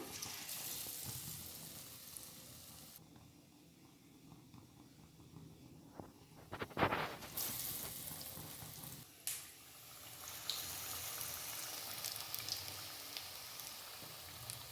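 Besan-battered potato chops frying in mustard oil give a steady, fairly quiet sizzling hiss, broken midway by a brief clatter before the bubbling carries on.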